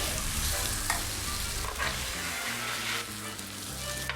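Rolled egg omelette frying in a pan, a steady close sizzle with soft stirring and scraping touches and a few faint clicks, no voices over it.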